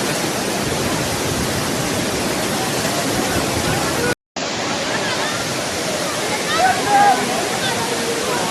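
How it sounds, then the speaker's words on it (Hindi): Manthoka Waterfall in the Skardu region, a loud, steady roar of water plunging from above fills the whole stretch, broken only by one brief cut midway, with faint bird chirps toward the end. "भाई हम आए थे मनटोका वाटरफॉल"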